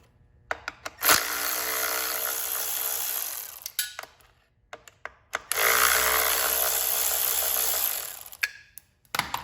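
Power driver with a T30 bit backs screws out of a plastic wire keeper on an Audi B8 2.0T TFSI engine: two long, close whirring runs, each ending in short clicks and taps.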